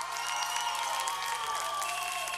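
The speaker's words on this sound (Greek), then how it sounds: "Τα παιδιά χειροκροτάνε." A studio audience applauds on a Greek daytime stand-up television segment: faint, steady, even clapping that continues throughout, with faint sustained tones in the background.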